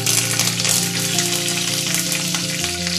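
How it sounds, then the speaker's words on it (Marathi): Mustard seeds, cumin and curry leaves crackle and sizzle in hot oil, a dense, continuous frying hiss with steady popping, close and loud, no talking. "मोहरी थोडी तडतडली की त्यामध्ये आपण टाकूयात जिरं टाकूयात"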